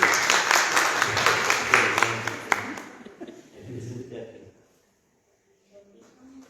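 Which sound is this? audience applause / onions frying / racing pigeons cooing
audience applause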